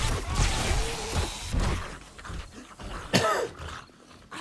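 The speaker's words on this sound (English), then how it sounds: "Sorry for the cough." A person coughs and clears their throat a few times near the microphone while gameplay sounds from 7 Days to Die continue in the background.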